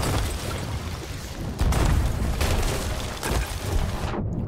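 Cannon fire striking a ship in the video game Sea of Thieves, loud heavy booms and crashing impacts layered into a dense, rumbling wash of noise with a few stronger hits.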